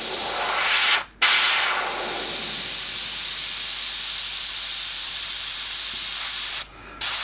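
An airbrush misting paint along the horizon line of a landscape painting gives a loud, steady close hiss that cuts out briefly twice for a moment of silence before resuming.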